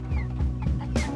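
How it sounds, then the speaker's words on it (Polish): Cartoon chickens on a farm cluck in quick, close bursts, several short clucks over a low steady background hum. "O, są też kury."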